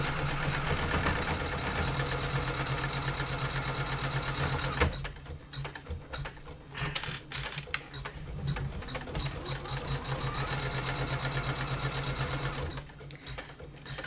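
Sewing machine stitching a Christmas quilt runs steadily up close and loud, a continuous mechanical hum with fast rhythmic stitching that briefly slows and stutters midway before resuming at full speed.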